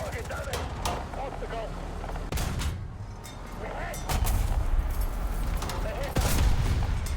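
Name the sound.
tank gunfire in a WWII tank video game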